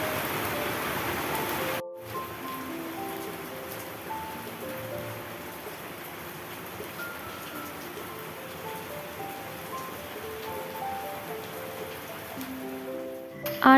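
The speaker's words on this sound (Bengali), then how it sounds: "হালকা হালকা বাইরে বৃষ্টি এখনও পড়ছে" Light rain falling outside a home near the Ganges during the rainy season, a soft steady hiss of drops heard alone with faint scattered tones in the background.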